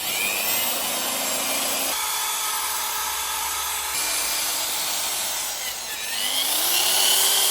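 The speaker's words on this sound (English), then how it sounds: "I've already started hitting it here with a wire brush on the drill bit." A wire brush spun on a power drill grinds against a metal brake caliper from an R32, a harsh, loud, continuous scraping whine whose pitch steps and shifts as the drill speed and pressure change, with no talking.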